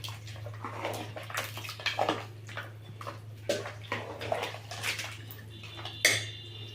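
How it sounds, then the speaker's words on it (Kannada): Water sloshes and splashes in short bursts as it's swirled in a rinsed mixer jar and poured into a pot, with clinks of the jar against metal and a steady low hum. "ನಾನು ಮಿಕ್ಸಿ ಬಟ್ಲು ತೊಳೆದು ನೀರು ಸೇರಿಸ್ಕೊಳ್ತೀನಿ"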